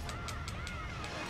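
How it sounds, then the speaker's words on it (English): A bird in the video game The Legend of Zelda: The Wind Waker gives a regular series of short cawing calls, about one every few tenths of a second, over dense steady game background sound. "See that? The weird bird sounds."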